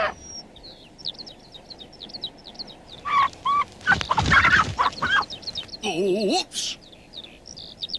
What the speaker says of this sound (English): a cheeky hen stealing his keys